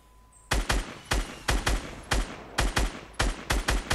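Gunfire in Fortnite, a loud close volley of about a dozen sharp shots fired in quick irregular pairs and groups, standing alone with no talk.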